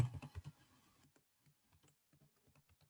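Keys tapped on a computer keyboard, a quick burst of close clicks followed by sparse, soft individual keystrokes.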